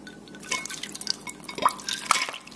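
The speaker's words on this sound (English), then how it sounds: "now I will add some cold water." Cold water is poured onto a color-changing toy car, giving a run of close drips and splashes with sharp liquid plinks against a hard surface.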